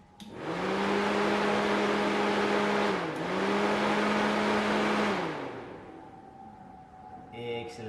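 A Saab 900 Classic's radiator cooling fan, hotwired past its thermo switch, spins up into a loud steady whir for about five seconds. It holds an even tone with a brief dip midway, then winds down and fades away.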